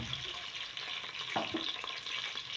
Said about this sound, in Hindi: आप गरम घी हो गया, इसमें मैं प्याज ऐड करूँगी।